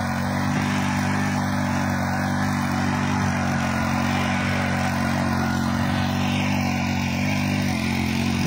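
A 63cc mini power tiller works through grassy soil, its small engine droning steadily and loudly at close range for the whole stretch without a break.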